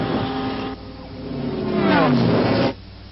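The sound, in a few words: speeder bike chase scene from Return of the Jedi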